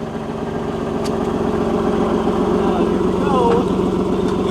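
A warm turbocharged Nissan 370Z Nismo idles with a steady, throbbing rumble close by. A voice talks over the engine throughout.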